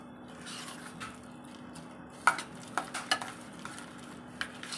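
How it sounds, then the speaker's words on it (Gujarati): Sandwich masala being stirred in a bowl with lemon juice, garam masala and fresh coriander: soft, quiet scraping with a few sharp spoon clinks in the second half. "અને સારી રીતે હલાવી લેવાનો છે."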